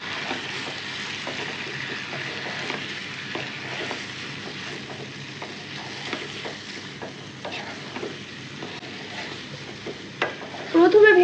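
Chicken being stirred together with spices in a pan, a steady sizzle with repeated soft scraping and stirring strokes, growing briefly louder at the end, with no talking.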